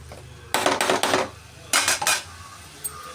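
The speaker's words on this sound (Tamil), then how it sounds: "கொஞ்ச நேரம் மூடி வச்சிடலாம்." Metal lid clattering onto a pan of fenugreek leaves on the stove: two bursts of clanks and scrapes, several quick metallic knocks each, close by, then a faint tap after quiet.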